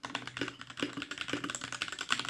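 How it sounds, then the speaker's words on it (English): Fast typing on a cheap mechanical keyboard at a desk, a steady stream of crisp clacking keystrokes up close with no talking. "And I love how the keyboard sounds."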